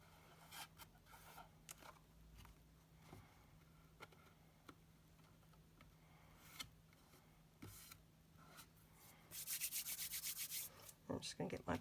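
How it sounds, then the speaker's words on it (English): A bone folder rubs down paper on a die storage craft piece in a series of quiet, close scraping strokes, brief and irregular at first, then a quicker burst of rubbing near the end. "I'm just going to get my bone folder and rub that down."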